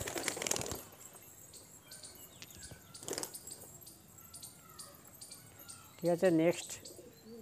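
Pigeons released from a loft in Howrah, West Bengal, with bursts of flapping wings and a few chirps, then a loud, close cooing call near the end; someone speaks briefly.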